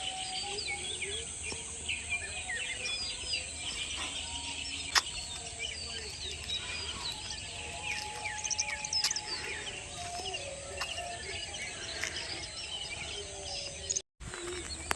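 Small birds chirp and tweet outdoors on a cool morning after rain, with scattered faint calls layered over a steady hum of insects and ambient noise, at moderate distance and without talking.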